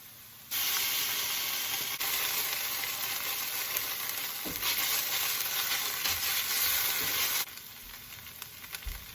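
Ginger garlic paste hits hot oil in a frying pan with an abrupt, loud, steady sizzle that hisses for several seconds amid some stirring, then eases to a quieter fry.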